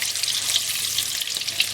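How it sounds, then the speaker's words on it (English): Eggs frying in a pan and being stirred with a wooden spoon, a steady close sizzle with faint scraping under it, no voices. "You want to break the eggs, and the frying will take about 3 minutes or so."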